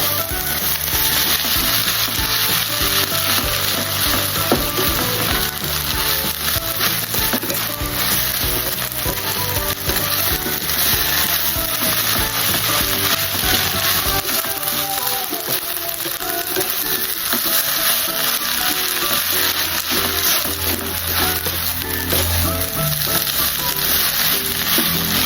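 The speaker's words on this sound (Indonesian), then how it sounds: "Telurnya ditumis sekalian" Eggs stir-fry in a pan for lumpia filling, giving a loud, dense, continuous sizzle with scraping and rubbing from stirring throughout, close and steady, with no voices.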